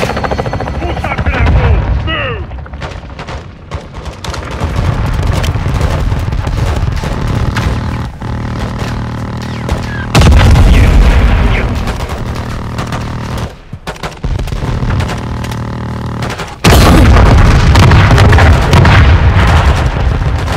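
Heavy booms from a helicopter gunship strike on a building in Call of Duty: Modern Warfare 2, with rotor drone, gunfire and loud blasts, including big explosions near the middle and end, while radio voices talk between them.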